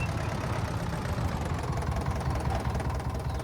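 Close, steady idling of a tractor engine with a planter attached, a constant low-pitched chugging drone that holds even throughout with no voices.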